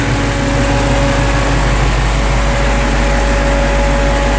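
A wrecked 2017 Dodge Hellcat Charger's engine runs at a steady idle, a loud, close, continuous low drone with a constant hum and whirring fans, no voices.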